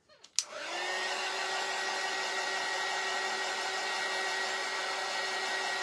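Heat dryer drying sealer on a napkin craft project for a sunflower gnome shelf sitter: a click, then a steady, close, high whirring hum that runs on without a break.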